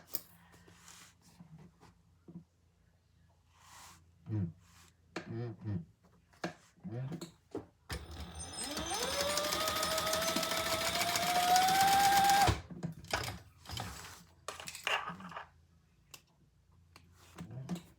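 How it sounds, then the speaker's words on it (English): A sewing machine basts D-rings onto the back panel of a crossbody bag, running in one steady, loud whirring stitch burst for a few seconds in the middle, while handling noises and talk come before and after. "Take your back panel, measure down from the top band, and add, and just baste your D-rings in place"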